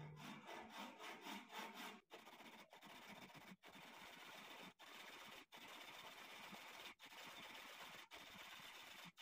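A handsaw cuts a piece of wood in two with steady back-and-forth rasping strokes, brief pauses between runs, quiet and close by with no talking.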